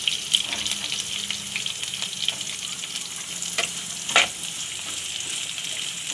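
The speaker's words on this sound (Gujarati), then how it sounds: "ગાજરને આપણે ઘડીક વાર તેલમાં સડવા દેવું" Carrots sizzle in hot oil with curry leaves for corn upma, a constant crackling fry up close, with a few light clicks and scrapes from stirring and no speech.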